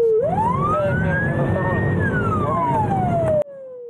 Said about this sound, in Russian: под вой сирен трех экипажей ДПС